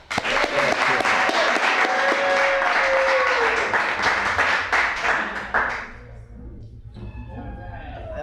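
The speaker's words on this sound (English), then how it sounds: "Let's give a great round of applause to Cacanja." Loud, dense applause and clapping from an audience at a 1998 poetry reading in Bayview, sustained for about six seconds before thinning out to scattered claps.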